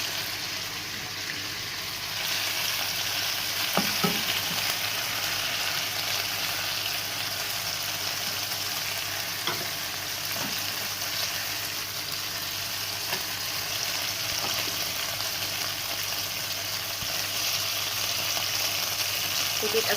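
Chicken frying in a frying pan for a braised pineapple chicken dish gives a steady, even sizzle that runs the whole time at constant loudness, with no talk over it.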